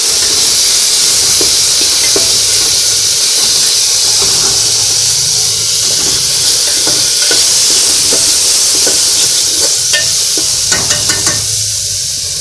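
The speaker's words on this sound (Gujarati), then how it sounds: "આમાં અમારે થોડુંક મિક્સિંગ કરવાનું રહેશે" Potato curry (chorafali batata shaak) is stirred in a hot pan, a loud steady sizzle and steamy hiss with scattered scraping and clinking of the spoon against the pan.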